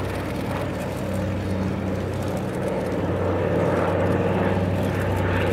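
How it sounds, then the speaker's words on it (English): Douglas C-47B Dakota, a propeller aircraft in silver finish, flying over Duxford: a steady, loud low engine drone and propeller hum that holds constant and swells slightly toward the end, with no voices. "Silver aircraft is actually a C-47B and was built specifically for operations over."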